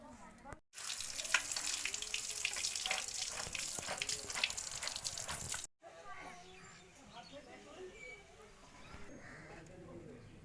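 Running tap water splashes loudly over chopped spinach in a sink for several seconds, then stops, leaving quieter kitchen handling sounds with birds faintly in the background.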